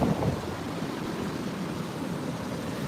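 Strong coastal wind roaring steadily across the microphone while surf washes in underneath at a beach on a rough, windy day, a constant loud rumble with no voices.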